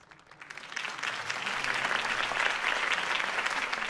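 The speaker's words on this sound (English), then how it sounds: "could have heard that applause" Applause at a campaign speech builds quickly from scattered claps into full, sustained clapping from a crowd, with no speech over it.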